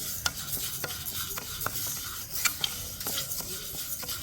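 Roasted lentils being stirred in a very hot pan while making homemade barfi, giving steady repeated scraping and rustling strokes with light clinks, close and alone, with no talking.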